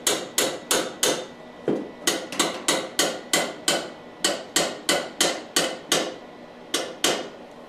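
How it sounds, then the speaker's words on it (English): A hammer taps steadily on a welded go-kart fender, about twenty sharp metallic strikes in an even rhythm, close and clear with no talking. "I don't know if tapping on this will break the weld."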